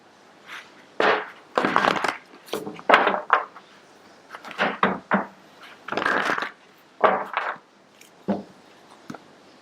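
A tarot card deck is shuffled close up in irregular bursts of riffling and cards slapping together, with short pauses between the bursts.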